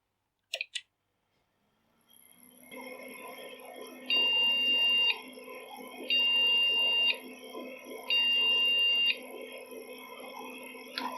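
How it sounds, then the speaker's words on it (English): An old PC motherboard sounds three evenly spaced POST beeps, each about a second long with a pause between, over a steady hum of fans after a couple of clicks at power-on. "Three beeps."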